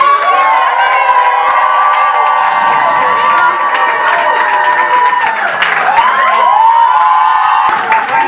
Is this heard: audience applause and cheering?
yes